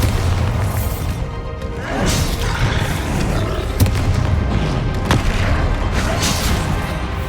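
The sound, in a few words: spell explosions in the Hogwarts Legacy video game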